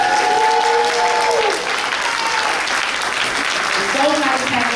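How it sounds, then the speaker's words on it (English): Applause from an audience at an elementary school celebration fills the space, a steady loud wash of clapping with crowd noise, and tonal sounds rise briefly at the start and near the end. "Let's give a round of applause for Mr."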